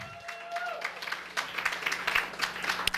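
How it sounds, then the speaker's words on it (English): An audience applauds at a comedy night in a bar, with scattered, uneven claps building into steady clapping while a faint voice sounds early on. "Round of applause."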